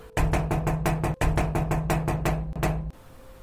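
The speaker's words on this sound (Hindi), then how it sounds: "चौदह वर्षों बाद विश्वजीत बाबू ने दरवाजा खटखटाया" Knocking on a wooden door in a Hindi audio story: a steady series of about a dozen close, evenly spaced raps in one burst, alone with no talk, over a faint background hum.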